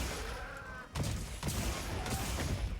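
Heavy hammer strikes from the Big Bang attack in Monster Hunter Wilds land as several loud, booming impacts over roughly three seconds, each a sharp thud layered over dense in-game action noise.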